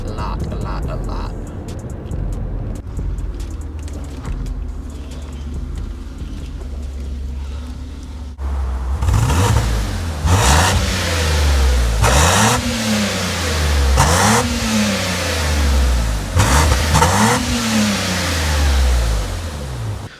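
A rebuilt BMW E31 engine with its exhaust fitted, heard first idling low and steady, then blipped through four or five loud, sharp revs that climb and fall in quick succession, with a little talk underneath.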